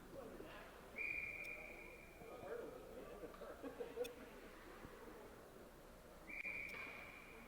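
A referee's whistle in a high school hockey game signals an icing, giving two sharp steady blasts about five seconds apart over faint arena noise and quiet commentary.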